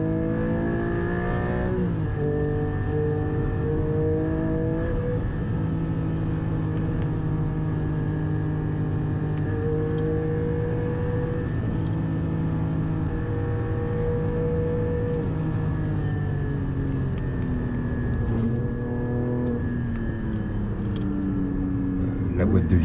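Porsche 718 GT4 with a manual gearbox driven fast on a track, its engine note steady and loud with clear pitch climbs and drops through gear changes, a voice talking over it throughout.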